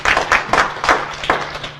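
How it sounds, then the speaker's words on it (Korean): A small audience at a Korean village media program briefing gives short, close applause: about five distinct bursts of hand clapping in quick succession, loud and brief. "박수 한번 쳐주실게요"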